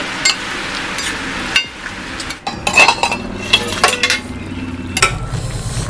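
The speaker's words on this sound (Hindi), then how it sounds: "चिकन को हम इस तरह से ऐड कर देंगे। देखिए फिर हम इसको अच्छी तरह से मिक्स करेंगे।" A spoon stirring chicken in a metal pot for biryani, with repeated scraping, clinks and knocks against the pot over a soft sizzle, close and fairly loud.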